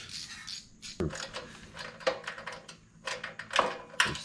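A screw is turned by hand on a Scag 52-inch walk-behind mower, giving quiet ratcheting clicks and metallic taps in irregular bursts, close by, with short pauses between turns.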